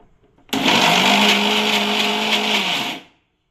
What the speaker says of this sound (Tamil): சால்ட் ஆட் பண்ணிவிட்டு பல்ஸ் மோடில் வச்சுட்டு நம்ம வந்து இதை பவுடர் மாதிரி மிக்ஸ் பண்ணி எடுத்துக்கலாம்